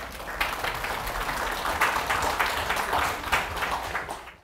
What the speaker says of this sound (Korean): 큰 박수로 환영해 주시면 감사하겠습니다.